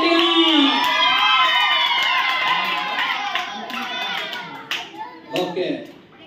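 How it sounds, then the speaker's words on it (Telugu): Loud clapping from Sunday school children, a brisk patter of many hands that grows dense after a few seconds, mixed with children's voices and shouts. "చప్పట్లు కొట్టాడు గట్టిగా"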